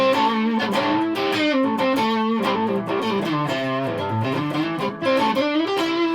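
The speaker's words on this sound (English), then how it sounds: "And this neck pickup, I don't have any pickups that sound like this." A custom CSL Telecaster played through its neck pickup, with a distorted electric tone from an effects unit, rings out in continuous chords and melodic lines, loud and close with no talk.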